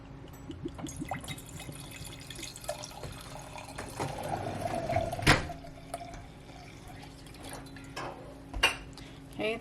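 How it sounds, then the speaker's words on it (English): Spanish Tempranillo wine is poured in a home kitchen: a short, close liquid pour with a sharp clink partway through, then quieter handling sounds. "I'm going to pour the wine and give it a taste."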